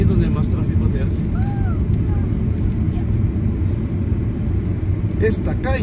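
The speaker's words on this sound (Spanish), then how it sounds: "Aquí es donde más tráfico se hace." Busy street traffic in Colonia Lourdes, Zona 16, near Bulevar Acatán, with a steady loud rumble of passing cars and engines close by, plus a few short higher sounds near the end.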